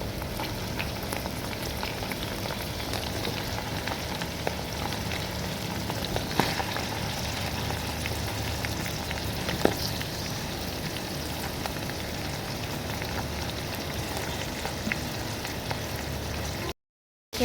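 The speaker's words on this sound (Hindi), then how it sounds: "गोश्त जो है हमारा फ्राई हो रहा है।" About 1.5 kg of mutton fries with onions in a karahi, giving a steady, dense sizzle and crackle that runs unbroken and fairly loud, with a few sharper pops and no talking.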